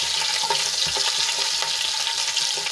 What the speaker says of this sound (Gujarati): હવે આપણે અડધી મિનિટ માટે સાંતળી લઈશું।